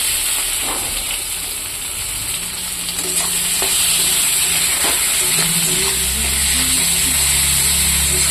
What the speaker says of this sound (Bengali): দেখুন এটা দিয়ে একটু ভাজবো